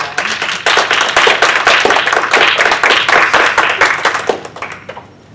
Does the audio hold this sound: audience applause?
yes